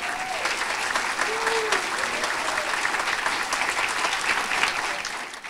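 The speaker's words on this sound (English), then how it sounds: "round of applause" A steady round of applause fills a room at a community college retirement open house, many people clapping evenly and continuously, with a few faint voices mixed in.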